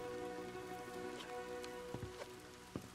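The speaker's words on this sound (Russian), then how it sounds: "Сезон дождей еще не начался, а у нас то ураган, то ливень." Heavy rain shower falls steadily, a soft continuous patter with a few louder drops near the end, no voices.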